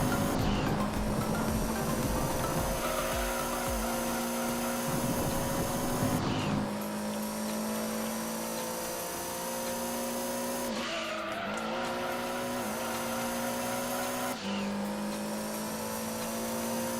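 A Toyota Supra race car in Gran Turismo 2 drones along with a steady engine tone, its pitch climbing in waves as gears shift, with some tire noise and faint talk underneath.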